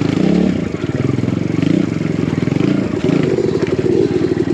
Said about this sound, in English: Now these big boulders are sure adding an added challenge when you're going up it